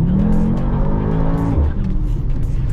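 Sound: Mercedes-AMG GT63s E Performance accelerating, turbo and blow-off valves

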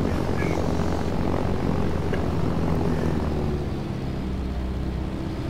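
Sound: propeller aircraft engine in flight, Arma 3 video game

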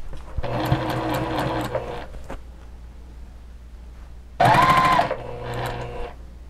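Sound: sewing machine stitching fabric

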